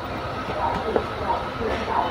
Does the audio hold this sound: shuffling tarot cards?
no